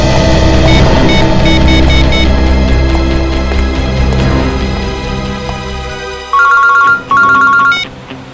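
A phone ringtone rings loudly in a Hindi crime drama: a sustained melodic tone that fades, then turns into two short, bright electronic beeping bursts near the end.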